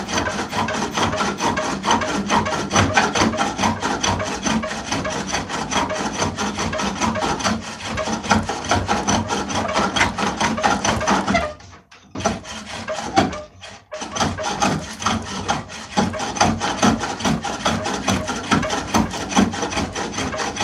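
Turning tool cutting wood on a spring pole lathe, a steady rasping scrape that pulses with each stroke of the pole, close and loud, with a brief pause near the middle before the cutting resumes.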